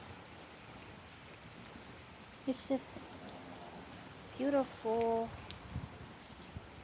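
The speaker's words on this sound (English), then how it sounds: "Raining again." Rain falls steadily outside a home near a rose bush, a faint, even hiss of patter throughout, with a few short bird chirps rising above it and a person speaking briefly.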